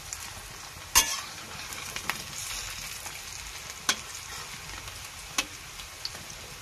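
Fish roe fritters fry in a pan with a low, steady sizzle, punctuated by a few sharp spatters and utensil taps spaced a second or two apart.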